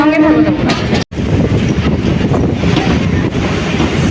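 A train pulling into Arambagh station rumbles and clatters nearby with steady rolling noise and wind buffeting, after a brief voice-like tone at the start.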